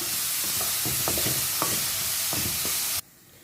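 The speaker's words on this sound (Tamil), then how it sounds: "தக்காளி நல்லா மசிஞ்சு வர அளவுக்கு நல்லா வதக்கி எடுத்துக்கலாம்." Tomatoes sauté with steady sizzling in a hot pan, occasional scraping stirs, loud and close, cutting off abruptly near the end.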